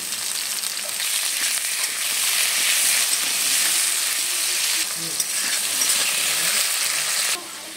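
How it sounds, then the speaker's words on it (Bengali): Potatoes frying in hot oil give a steady, dense sizzle that holds loud and continuous, then drops to a softer level near the end, with no talk over it. "আলুগুলো ভাজা হয়ে গেছে, এবারে এগুলো আমি নামিয়ে নেব।"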